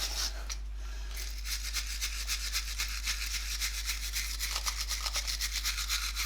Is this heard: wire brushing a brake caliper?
yes